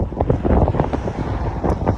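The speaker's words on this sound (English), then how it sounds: "It's extremely windy, as you can see by my dress blowing in the wind." Strong gusting wind buffets the microphone outdoors in Abiquiu, New Mexico, a steady low roar with surging gusts and no voices, filling the whole stretch.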